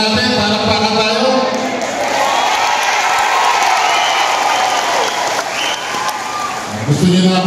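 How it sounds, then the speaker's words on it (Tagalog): A large crowd at a Filipino political rally claps and cheers loudly, with sustained applause, shouts and whoops overlapping for several seconds, rising again near the end. "palakpakan tayo"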